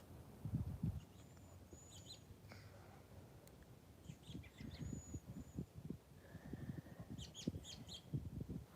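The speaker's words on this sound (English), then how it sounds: "All the birds are gonna start coming out now" Birds chirp and call outdoors in the morning, scattered tweets and a few caws at moderate distance over a soft rustling background, with no talk.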